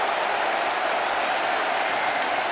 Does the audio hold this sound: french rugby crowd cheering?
yes